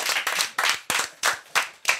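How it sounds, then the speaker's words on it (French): A studio audience claps at a French television show: a loose, close patter of hand claps arriving in quick regular bursts for about two seconds, with no voices over it. "la personne qui lance les applaudissements"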